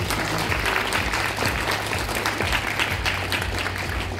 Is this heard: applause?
yes